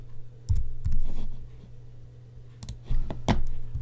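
Typing on a computer keyboard while entering text in Photoshop, a few sparse, close key clicks over a low steady hum.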